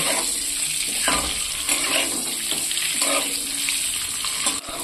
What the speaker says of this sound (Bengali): এবার নাড়াচাড়া করে একটু ভেজে নেব।